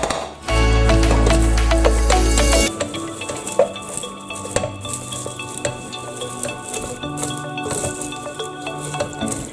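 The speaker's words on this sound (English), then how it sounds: "See the caramel coating the popcorn, and then keep stirring and get the chocolate covering it as well." Popcorn being stirred through caramel and chocolate in a pot: a low hum at the start, then rhythmic scraping and clinking of a utensil against the pot, with a faint sizzle beneath.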